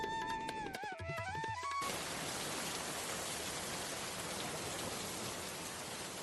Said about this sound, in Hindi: फिर अचानक एक दिन रात में बारिश होना शुरू होती है।